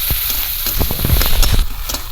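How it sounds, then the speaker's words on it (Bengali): Chopped onions fry loudly in hot oil with panch phoron spices for a fish kalia, giving a steady close sizzle with bursts of crackling and occasional stirring. "এবার পেঁয়াজ আর তেল সব একসঙ্গে ভাজা হয়ে যাবে"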